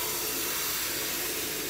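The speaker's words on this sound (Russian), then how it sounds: "Сковородки тонкие, блины жарятся быстро." Blini pancakes frying in thin pans give a loud, continuous close-up sizzle and hiss with no pauses.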